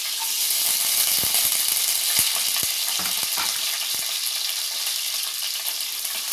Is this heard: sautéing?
yes